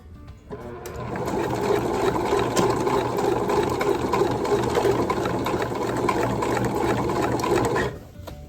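A sewing machine runs continuously for about seven seconds while stitching fabric for a midi skirt, giving a steady, close mechanical whirr and rapid needle clatter that starts and stops abruptly.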